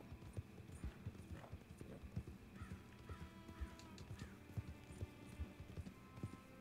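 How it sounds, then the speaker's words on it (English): Wild horse hooves clip-clop steadily through Red Dead Redemption 2's open world, a rhythmic trotting beat under faint game ambience with occasional crow caws in the distance. "This is a wild horse."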